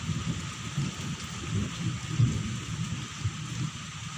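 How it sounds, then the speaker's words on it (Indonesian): Heavy rain pouring steadily in a village during a strong windy storm, with deep rolling thunder rumbling underneath throughout, a dense continuous wash of sound with no voices. "Masih hujan."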